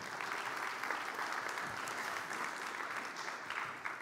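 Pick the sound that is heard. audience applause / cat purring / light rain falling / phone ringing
audience applause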